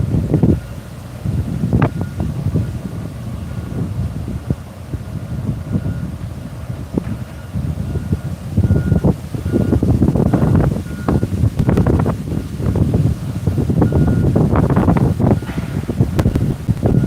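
Strong gusty wind buffets the microphone outdoors at a high perch during a bird fledge watch, a continuous low roar with rising and falling gusts throughout.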